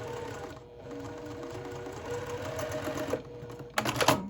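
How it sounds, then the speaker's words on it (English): A sewing machine stitches fabric for a quilt block in a steady, fast mechanical whir, nearby and moderately loud, with a brief sharper burst of needle clatter near the end. "The more you sew and the faster you go, the more flow you get."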